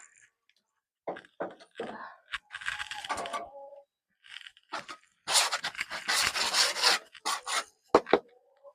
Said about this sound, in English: get this stuff loosened up so I can just rake it out of here